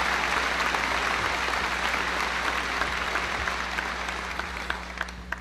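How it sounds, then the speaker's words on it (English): Applause from a large crowd at a 2016 high school graduation ceremony, a dense, steady wash of many hands clapping that carries on for several seconds and slowly fades toward the end. "Give them a round of applause"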